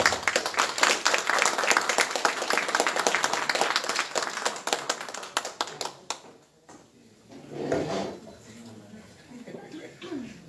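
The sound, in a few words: applause for a lawyer receiving an award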